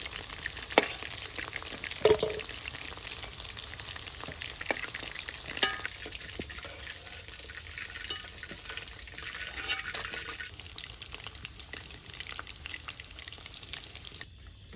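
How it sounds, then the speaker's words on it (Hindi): Chicken lollipops fry in hot oil during a second fry for crispness, a soft, steady bubbling sizzle with scattered crackles and clicks, fairly faint and without talk. "फिर से मैं दोबारा इसको फ्राई भी करने वाली हूँ, ताकि ये अच्छे से क्रिस्पी हो जाए"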